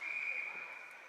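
A referee's whistle blows at a high school ice hockey game at Verona, one steady sustained shrill blast heard at a distance over arena noise.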